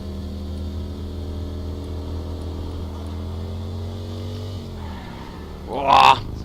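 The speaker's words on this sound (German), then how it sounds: "Boah, sogar driften mit dem Motorrad kann er." A motorcycle in the Saints Row video game drifts and skids, its steady engine drone shifting pitch before a short, loud squealing burst near the end.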